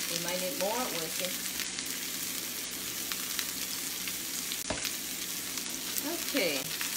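Carrot frying in a pan for Korean kimbap, a steady close sizzle running throughout with occasional stirring clinks and scrapes.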